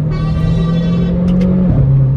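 A Renault Clio 4 RS Trophy with a full straight exhaust drones loudly and steadily up close, then its pitch drops sharply as it changes gear.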